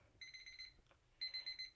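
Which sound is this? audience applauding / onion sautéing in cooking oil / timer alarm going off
timer alarm going off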